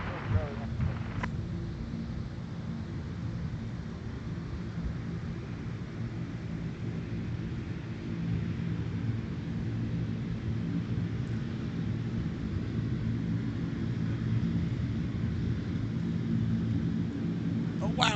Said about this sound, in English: we've got the ATR, the FedEx feeder on its way in